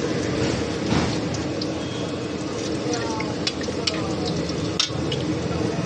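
Bay leaves sizzling as they drop into hot oil in a wok for a Bengali potato and papaya curry, a steady close frying hiss throughout with a few small crackles.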